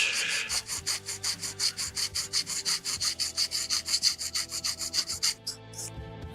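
Rhythmic back-and-forth rubbing on a Bandai 1/144 HG Gundam plastic model part, steady strokes about five per second, close and clear for several seconds before stopping abruptly.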